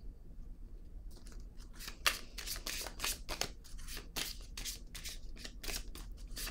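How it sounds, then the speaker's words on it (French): A deck of cards shuffled repeatedly by hand, a quick run of crisp riffling and flicking bursts close to the mic, ending with a card drawn; no talking. "Je vais piger une carte maintenant sur l'univers."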